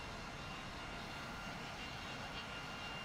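A steady, broadband roar from an A-10 jet's engines in a combat flight game, loud and unbroken, with no talking over it.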